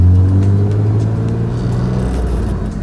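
A BMW M3 E36 under restoration pulls away in first gear, its engine a loud, close, low rumble that holds steady and swells slightly toward the end.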